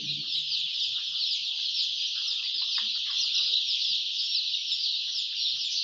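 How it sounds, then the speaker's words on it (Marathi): Poultry chicks on a farm cheep continuously in a dense, high-pitched chorus, with a few low clucks near the start, and no talking. "पहा एकदम मस्त असे पिल्ले आहेत"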